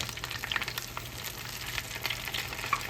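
Crispy coconut-coated shrimp fry in hot oil, six or seven at a time, giving off a steady close sizzle with crackling pops throughout and no voices.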